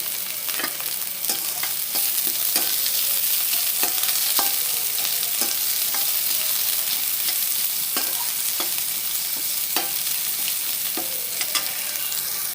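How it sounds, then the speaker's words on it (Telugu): Chopped onion and green chillies frying in hot oil with a steady close sizzle, while a spoon scrapes and clinks against the pan in regular stirring strokes; no one speaks. "ఆనియన్ కూడా ఆయిల్లో వేగాక"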